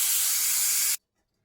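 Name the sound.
steam hissing released from pressure cooker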